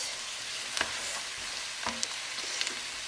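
Beef browning and getting stirred in a hot Dutch oven or cast iron pot, a steady sizzle with a few scraping utensil knocks, close and without talk.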